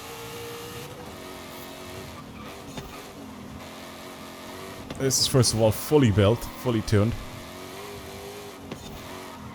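Ford Mustang Dark Horse in Forza Horizon 5, fully built and tuned, revving in several loud sharp bursts midway under someone talking over a steady engine idle.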